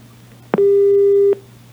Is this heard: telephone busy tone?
yes